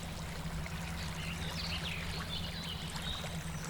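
Water steadily pours and trickles over a scale model road culvert, a soft continuous babbling flow with a low hum underneath and no voices.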